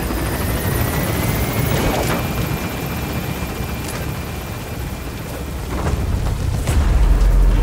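Extraction helicopter gaining altitude in a video game, a loud steady rotor roar that swells near the end, with occasional distant booms beneath it.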